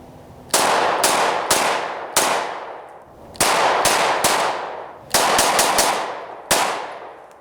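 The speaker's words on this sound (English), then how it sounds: "do a little field testing to shoot a few rounds to see what I think" A handgun fires sharp, loud shots outdoors during field testing, about a dozen rounds in uneven bursts of one to four, each crack followed by a long ringing echo that fades before the next.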